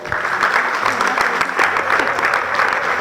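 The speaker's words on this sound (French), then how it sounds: "Et je pense qu'on va applaudir encore pour elle." Audience applause for a female coach at an entrepreneurship panel, FIPA 2023: dense, steady clapping from a sizeable crowd, close and loud, filling the whole stretch without a break.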